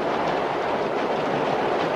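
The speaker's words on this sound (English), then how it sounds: "Well, the train stops in the middle of nowhere." A passenger train rolls along the rails in a 1967 film scene, a steady, loud, continuous rumble with faint rhythmic clatter and no break throughout.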